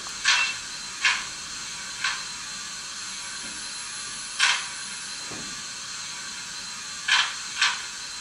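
A Bachmann Atlantic South Foreland model locomotive's sound decoder plays carriage door slams: six sharp, separate bangs at irregular intervals over a faint steady hiss.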